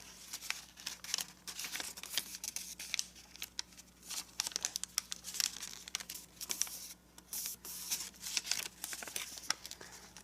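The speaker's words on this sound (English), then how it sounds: "make the pleat here, and fold the flap up so the valley fold goes between this point and this point." Paper creasing and crinkling steadily while being folded into an origami labyrinth, with soft rustles and small snaps of folds, close and quiet, no voices.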